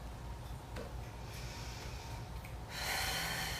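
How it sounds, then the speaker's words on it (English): A deep breath is drawn in and let out during a seated yoga spinal twist, faint and close, ending in a louder rushing exhale. "We have one more big breath here."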